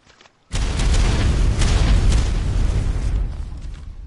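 Explosions in Grand Theft Auto: after half a second of near quiet, a loud, close boom hits and rolls on as a rumbling, crackling blast for about three seconds before tailing off.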